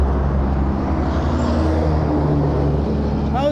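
Dense, continuous traffic roar fills the scene, a steady heavy drone of many cars, buses and trucks passing at close range with no let-up, and a brief squeal near the end.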